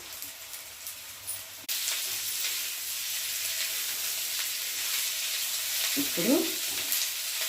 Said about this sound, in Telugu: ఉల్లిపాయతో పాటు కాకరకాయ కూడా వేగాలన్నమాట